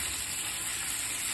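Liver with onions frying in a pan, a dense, even sizzle and crackle that holds close and steady throughout the brief stretch.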